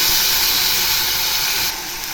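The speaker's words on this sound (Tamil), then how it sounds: "தக்காளி கொஞ்சம் வதங்கட்டும்" Tomatoes sauté in a pan after onions, producing a steady, loud hiss of sizzling that holds evenly throughout with no talking.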